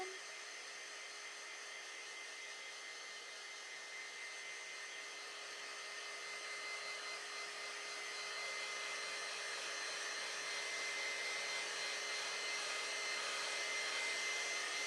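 A hair dryer blows steadily on a painted sugar skull craft. The whir is continuous, close and even for the whole stretch, swelling slightly toward the end with no voices.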